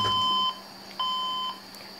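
An HP Compaq dc7800 desktop computer beeps steadily on boot with a fault, sharp electronic tones switching on and off about every half second, close and fairly loud over a faint hum.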